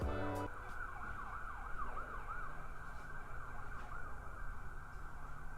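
Emergency sirens wail outside, their rising and falling tones carrying steadily over distant traffic rumble, moderately loud but muffled by walls.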